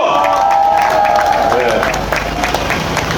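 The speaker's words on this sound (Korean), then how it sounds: "국비로 박수 한번 주시죠" An outdoor crowd at a county-head election campaign rally at a bus terminal cheers and claps, a loud, dense roar of voices and hands under amplified sound. Tones and shouts mix into the noise.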